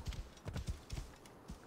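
Horse hooves clip-clop in Assassin's Creed Origins, a quick irregular run of sharp, fairly faint clopping steps on hard ground without talk.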